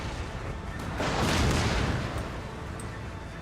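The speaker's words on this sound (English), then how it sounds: "I need my cannons to do work." Cannon artillery fires in the Empire: Total War battle, a muffled booming blast that swells and fades over a steady din of combat noise.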